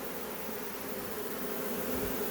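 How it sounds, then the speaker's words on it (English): A honey bee swarm in a hive box, with bees fanning at the entrance, making a dense, steady buzzing drone that fills the clip, close and continuous, with no talk. "But there's a lot of bees in the box now."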